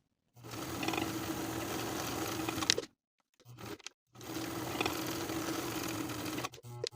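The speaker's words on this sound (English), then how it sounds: "Now we'll stitch right on top of those parallel lines." A sewing machine runs in two steady bursts of rapid stitching with a short pause between, sewing decorative parallel lines onto a pants pocket.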